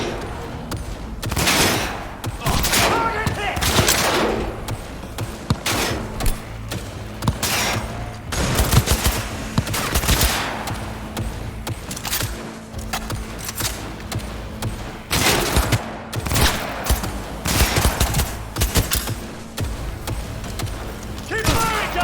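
Cyberpunk firefight with repeated bursts of automatic gunfire and single heavy shots, loud and close in irregular clusters throughout, mixed with in-game voices.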